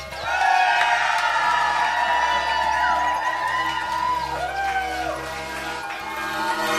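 An audience at a live music event cheers, whoops and makes noise for a fast soul music act, a continuous moderately loud crowd roar lasting several seconds.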